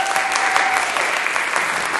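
Steady, dense applause from a crowd cheering a singer at a live music event, loud and continuous throughout.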